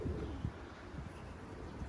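Pigeons flown in stormy weather coo faintly beneath heavy, rumbling wind noise, the soft bird calls barely rising above the constant gusty roar.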